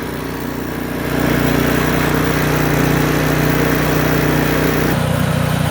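A Craftsman snowblower engine runs close by, a loud steady mechanical drone that rises in level after the first second, then shifts in tone near the end as the load changes.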